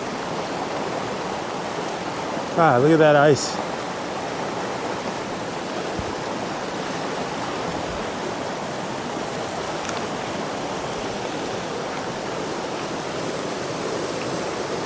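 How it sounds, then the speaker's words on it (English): A backcountry mountain creek rushes steadily over rocks in a constant, close, broadband wash of flowing water. Someone briefly speaks early on over the stream. "Beautiful creek."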